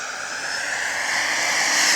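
A Legend Hobby OA-1K Skyraider II RC model airplane passes by with a steady, loud engine drone that swells slightly as it approaches.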